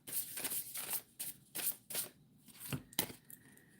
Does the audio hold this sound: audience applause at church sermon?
no